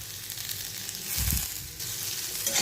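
Chopped onion, ginger and garlic sizzle and crackle steadily in hot oil in a frying pan, with a louder burst of frying as the ingredients are stirred, close and without talk.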